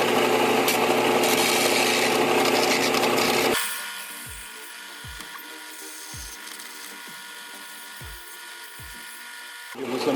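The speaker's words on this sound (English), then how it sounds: "you want to sand the threads with the grinder or the sander" A grinder or sander works the threads of a freshly cut bolt in a shop, a loud harsh grinding whir for several seconds, then it stops and a few soft scraping strokes follow over quiet background noise.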